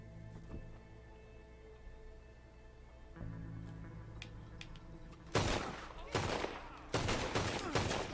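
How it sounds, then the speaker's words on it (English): Gunfire in the video game Red Dead Redemption II: a quiet stretch of game ambience, then four sharp, loud bursts of shots in quick succession near the end. "I'll just shoot him."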